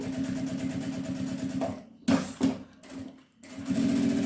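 A sewing machine runs a safety stitch on a small fabric wallet, whirring steadily and loudly up close, then breaking into short stop-start bursts before it resumes its even hum.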